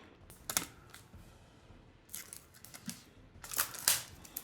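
Crinkly plastic wrapper torn off a deck of cards for the Tiny Epic Vikings board game, close and intermittent, with bursts of crackling rustle separated by brief quiet gaps.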